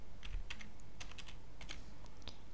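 Quiet, close keystrokes on a computer keyboard as a first name is typed, irregular clusters of light taps over a soft room hiss, no voice.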